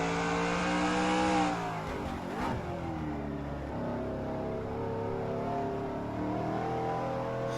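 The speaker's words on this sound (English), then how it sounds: "Listen to the engine here." A NASCAR race car engine fails during a race at the St. Petersburg Grand Prix, a loud droning engine whose pitch sweeps and wavers, then settles into a steadier lower tone, heard alone without talk.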